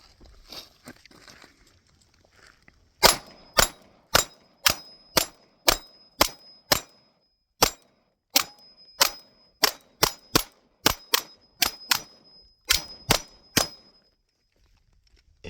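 A Glock 17 Gen 6 pistol fires about twenty loud, sharp shots in steady strings with short pauses, each crack ringing briefly at an outdoor range, with no talking over them.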